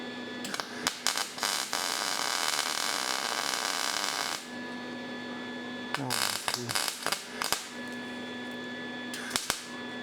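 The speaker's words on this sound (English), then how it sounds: "Let's tack weld that in place." Tack welding of frame rail parts: a loud, steady crackling buzz runs for about four seconds, then shorter welding bursts and sharp pops follow over a constant electrical hum.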